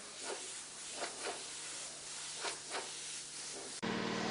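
A spray gun lays down pearl paint on a realistic flame paint job, giving a steady airy hiss with several short pulsing bursts before an abrupt cut into a different tone.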